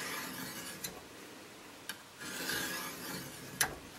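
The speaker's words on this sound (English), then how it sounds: "Now it's ready to use the burnisher to put on the burr. So I'll do that just by running this along the edge at a slight angle" Burnisher made from a Stihl chainsaw file rubbed at a slight angle along a steel scraper edge to turn a burr: a few brief, faint scraping strokes spaced apart over quiet room tone.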